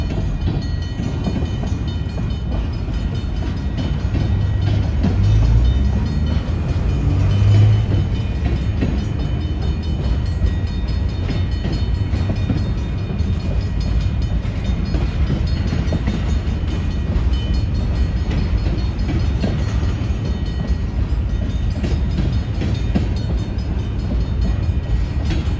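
A Union Pacific Railroad train rolls past in Algona, Iowa, a loud sustained rumble and rattle of wagons that holds steady without a break, no voices.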